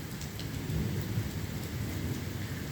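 Steady rain hisses continuously while low thunder rumbles underneath, an even, unbroken wash of windless storm noise with no voices.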